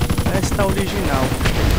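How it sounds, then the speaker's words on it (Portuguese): Rapid machine-gun fire from the Hunter attack helicopter in GTA San Andreas, modded with GTA V sounds, rattles in dense bursts with booming impacts, loud and close. "A metralhadora aqui do Hunter tá muito louco também"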